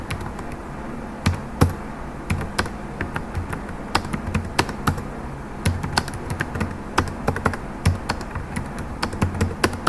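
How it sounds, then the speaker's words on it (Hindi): Urdu text is typed on a computer keyboard with a phonetic layout, producing steady, close clicking keystrokes in irregular bursts with occasional louder taps, alone with no talk. "क्लिक करते ही अब आपकी उर्दू टाइपिंग स्टार्ट हो जाएगी।"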